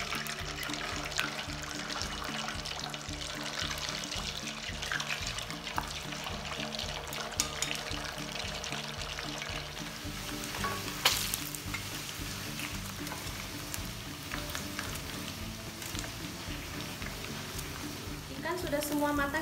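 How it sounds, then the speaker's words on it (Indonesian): Carp sizzles and crackles steadily in hot oil, a continuous spattering hiss that lasts throughout, fairly quiet and close. "Sekarang kita goreng ikannya."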